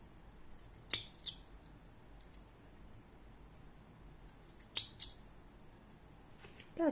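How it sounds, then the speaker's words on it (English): Scissors snipping crochet yarn while finishing a crocheted lips patch, two short double snips spaced a few seconds apart, close and crisp against a quiet room. "Now I am cutting."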